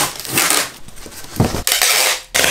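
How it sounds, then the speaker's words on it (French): Scissors cut apart items stuck together while unpacking during a move into a Paris flat, giving a few loud crunching, rasping snips in close, separate bursts with short pauses between. "On va prendre le ciseau."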